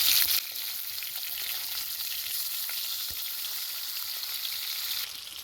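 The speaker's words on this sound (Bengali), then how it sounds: "তেলটা হয়ে গেছে, এবার দিয়ে দেবো মাছ।" Tilapia fish frying in hot oil in a pan, a steady bright sizzle that runs continuously and fairly close, with a few faint clicks of stirring.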